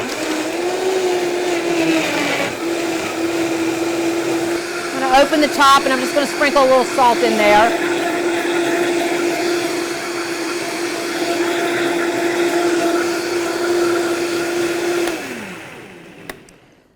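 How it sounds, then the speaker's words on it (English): A blender blending cucumber soup runs loudly and steadily on high, with brief clatter midway while a person talks over the whirring, which winds down at the end. "we're going to let the blender do the work for us"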